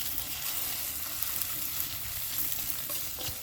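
Scrambled eggs frying in a pan on a homemade camp stove built from a propane tank, a steady close crackling sizzle throughout with occasional soft scrapes.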